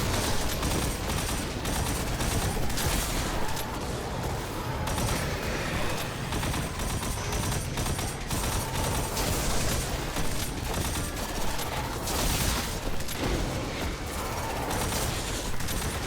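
Rapid gunfire from the Crimson weapon in the video game Destiny, dense bursts of shots crackling continuously with mechanical clatter throughout, loud and close.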